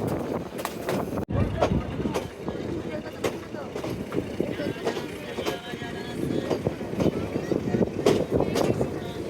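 Mohua local train rolling toward Netrokona, Bangladesh: a steady rumble and rattle of carriages with wind buffeting the microphone, and a voice talking over the noise.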